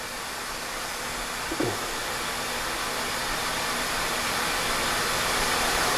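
A Sitek 480-S spin rinse dryer, a wafer fab machine, spins wafers with a steady broadband rushing whir that holds loud and even throughout, with a brief soft clunk near the start and no speech.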